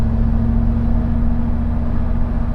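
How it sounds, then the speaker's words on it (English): A supercharged muscle truck engine under moderate acceleration gives a loud, steady low drone with a constant tonal hum layered on top, close and unbroken. "listen to that supercharger. And that's under moderate acceleration"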